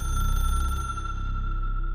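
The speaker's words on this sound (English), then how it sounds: "The phone rings." A telephone rings in the video game Control, a steady electronic tone sounding alone in a glass room, loud and unbroken throughout.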